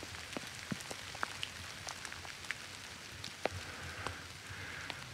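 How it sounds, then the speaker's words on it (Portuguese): Rain falling steadily on a dense canopy of trees in a wet, foggy natural setting, a continuous soft patter broken by scattered louder drips, fairly faint and with no voices. "conseguem ouvir a chuva"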